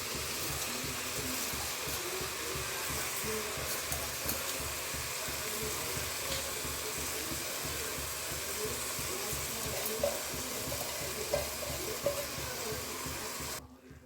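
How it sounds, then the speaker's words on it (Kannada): Soaked rice frying with spices in a pan for pulao: a dense, steady sizzling hiss lasting the whole stretch, close and fairly loud, with faint stirring underneath. "ಚೆನ್ನಾಗಿ ಒಂದು 2 ನಿಮಿಷ ಫ್ರೈ ಮಾಡ್ಕೊಳ್ಳೋಣ."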